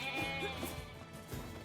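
A sheep bleats in the video game Nier Replicant, a few short wavering cries close up over a dense game soundtrack, with no talk.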